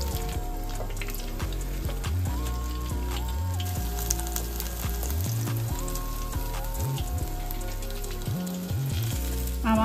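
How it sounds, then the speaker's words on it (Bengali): Topse fish frying in hot oil, giving a steady, continuous crackling sizzle that runs the whole time beneath prominent background music with no pauses. "মাছগুলো আমি বেশ উল্টে পাল্টে অনেকক্ষণ ধরে ভাজলাম।"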